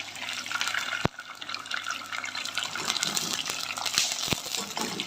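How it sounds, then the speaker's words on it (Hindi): Water is poured into a pan of browned arvi (taro root) for shorba, a steady splashing gurgle close up with a couple of sharp clinks of utensils against the pan. "मैं इसमें हल्का पानी डाल दूँगी।"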